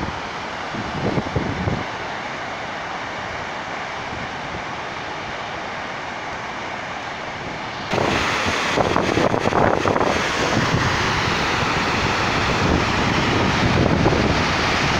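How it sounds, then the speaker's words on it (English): Constant rushing roar of a waterfall near Kootenai Falls, close by; partway through it abruptly grows louder and rougher, with wind buffeting the microphone. "There's another waterfall right here."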